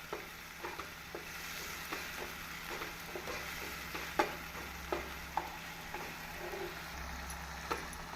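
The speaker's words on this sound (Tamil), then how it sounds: "நாம் அரைத்த மசாலாவை போட்டு நன்றாக கிளற வேண்டும்" A ground masala of coconut and cinnamon is stirred into tomatoes in a pan for egg curry. The spoon scrapes and taps at irregular intervals over a low, steady sizzle, close and fairly quiet, with no talking.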